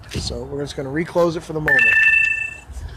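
A phone's low battery alert gives a short high electronic tone with a brief repeat, sounding just after a man's speech ends.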